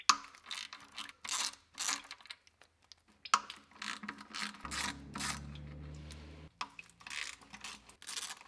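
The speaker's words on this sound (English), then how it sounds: "I'm going to loosen off all of the bolts around the back of the pan." A ratchet loosening the transmission pan bolts on a car during an automatic transmission fluid and filter change, giving several runs of close, quick clicking separated by short pauses.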